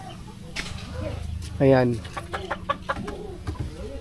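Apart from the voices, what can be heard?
chickens clucking on a farm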